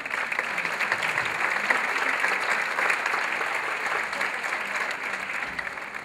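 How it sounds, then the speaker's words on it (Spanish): Audience applause as a greeting for a guest at the opening of a spring arts season, steady broad clapping from a seated crowd lasting about six seconds. "el licenciado Trinidad Peñuelas, a quien les pido pues un saludo a través de sus aplausos."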